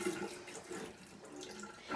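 Tap water runs steadily over rice in a strainer, a continuous close rushing splash with slight swells, heard alone with no talking.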